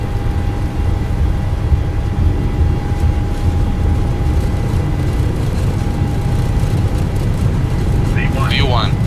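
Airliner engines spooling up to takeoff thrust in Microsoft Flight Simulator 2020, a steady loud low roar with a sustained whine running throughout, while a voice talks over it.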